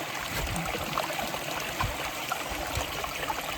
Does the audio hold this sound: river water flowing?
yes